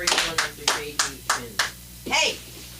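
A small audience at a Funky Friday show clapping in a slow, regular rhythm, about seven distinct close claps spaced evenly, followed by a brief vocal sound at the end.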